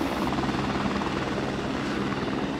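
A helicopter in the video game SOCOM: Combined Assault thrums close and loud, its rotor beating in a steady pulsing drone for the whole stretch.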